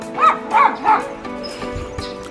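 An English bulldog foster dog gives three short, loud barks in quick succession close by, followed by quieter shuffling and a faint whimper indoors.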